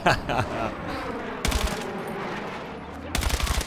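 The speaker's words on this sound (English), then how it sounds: "But now I'm shooting through a wall or something" Video game gunfire in Battlefield 6 while shooting through a wall: two loud bursts of rapid automatic fire, separated by a stretch of rumbling, noisy combat ambience, with no talk.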